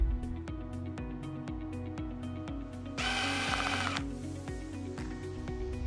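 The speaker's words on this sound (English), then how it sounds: "Remove the bolts on the cable entrance with your 8mm socket." A ratchet with an 8mm socket backs out the bolts on the cable entrance of a Tsurumi HS series pump, giving a rapid train of sharp metallic clicks with a brief louder rattling burst midway, close and alone.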